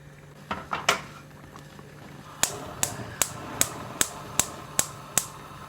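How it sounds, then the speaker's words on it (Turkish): A covered pot of eggplants cooking over high heat gives off a series of sharp, regular ticking pops and rattles, with a few quicker clicks at first. "Patlıcanlarım pişmeye başladı. Tencerenin içerisinden çok güzel sesler geliyor."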